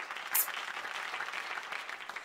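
Steady light clapping from the Pango children's video game, with a brief louder burst near the start, then an even, continuous patter with no talking.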